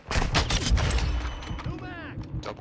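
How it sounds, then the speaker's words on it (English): Sniper rifle shots in a Call of Duty match, a loud sharp report up front with dense battle noise and echoing booms throughout, plus a descending whistling sweep near the end. "Double kill with the sniper rifle"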